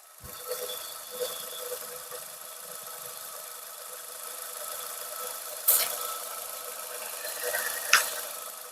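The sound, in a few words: petrol car engine idling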